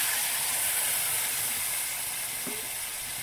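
Water is poured into a pan of frying fish and bursts into a loud, continuous hissing sizzle of steam close by. The sound is steady and softens slightly toward the end.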